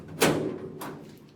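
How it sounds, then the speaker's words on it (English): A heavy metal bomb shelter door in an apartment is opened with a sharp, loud clunk, followed by a second, softer knock about half a second later. A low rumbling resonance lingers afterward. "Heavy metal door"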